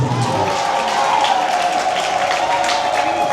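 A church congregation claps at a church inauguration. The dense applause is steady and close and lasts a few seconds, with a sustained voice or tone carrying under the clapping.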